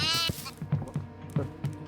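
A goat gives one close, wavering bleat, followed by a series of soft thumps and shuffling sounds nearby.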